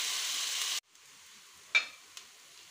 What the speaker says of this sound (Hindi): ज़ीरा फ्राई हो चुका है, अब प्याज को ऐड करेंगे और इसको फ्राई करेंगे लाइट ब्राउन